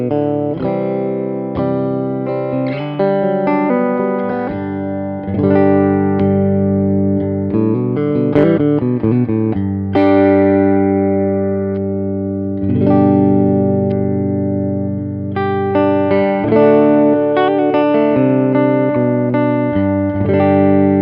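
A Fidelity electric guitar played clean through a Brelliot BBB30 medium-to-high-gain amp rings out in strummed chords and picked arpeggios, bright and sustained with a touch of reverb, with no voices over it.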